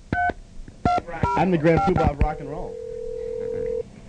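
Telephone keypad tones beep in quick bursts, then a steady held tone runs for over a second while a radio host talks over the line on a late-night show.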